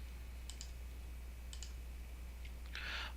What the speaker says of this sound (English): I'm going to click on Edit.